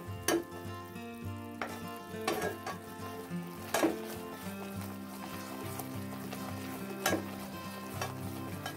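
Jaggery melts with ghee in a kadhai over a low flame, giving a soft steady sizzle with occasional scraping and stirring clinks of a spoon against the pan, close and quiet.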